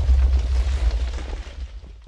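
A Minecraft explosion rumbles as a deep, heavy boom that rolls on and slowly fades over about two seconds, loud and close with no talking.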